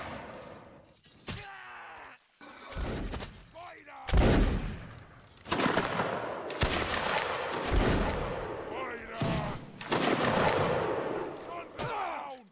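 Musket volleys in the Mount and Blade: Napoleonic Wars game, a series of sharp, loud shots scattered irregularly across the span, some isolated and some in ragged clusters, with faint voices and battlefield noise between them.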